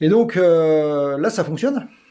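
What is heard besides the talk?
None of the usual background noises is heard.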